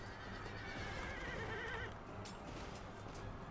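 Horses whinny amid a cavalry battle in the Empire: Total War strategy game, a drawn-out neigh riding over a dense, steady rumble of battlefield noise and hoofbeats, with no voices.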